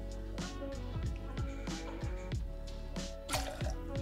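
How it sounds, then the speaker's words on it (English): Freshly poured espresso for a cocktail, a close, steady liquid stream with small drips and splashes running through the whole stretch. "1 ounce of Espresso, freshly poured"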